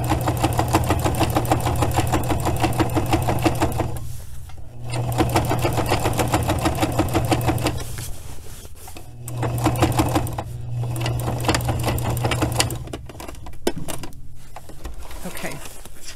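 A sewing machine stitches a patch onto a jacket pocket: a steady, rapid mechanical whirring in several long runs broken by short pauses, close and clear.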